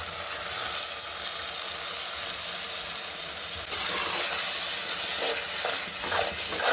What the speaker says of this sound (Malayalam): നമ്മൾ നേരത്തെ അരച്ച് മാറ്റി വെച്ച് കൂട്ട് നമുക്ക് ഇനി ഇതിലേക്ക് ചേർക്കാം